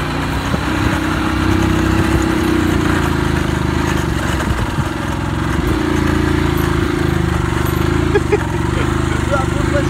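A motorcycle engine runs steadily through the whole stretch with a constant low rumble, and voices talk over it now and then.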